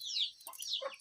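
Chicks clucking with short high peeps and chirps, close by, several calls in quick succession with no talking.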